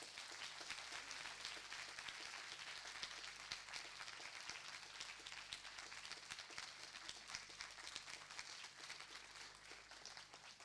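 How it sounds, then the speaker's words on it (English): An audience at a conference closing ceremony gives a round of applause, a faint, steady patter of clapping throughout. "So just a quick round of applause for Gary."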